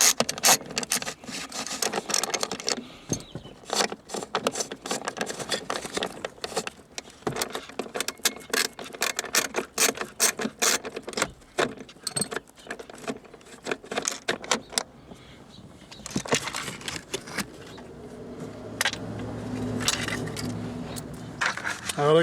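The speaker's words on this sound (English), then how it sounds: "we could come in with our 12mm and take off all 4 corner bolts" A 12mm socket and ratchet work loose the four corner bolts of the automatic gear selector in a Toyota Celica GT-S, making a dense run of close metallic clicks, rattles and scrapes, then softer handling noises toward the end.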